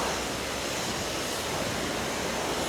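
At a car wash in Riyadh, a high-pressure water jet sprays onto a car in a loud, unbroken hiss that fills the whole moment.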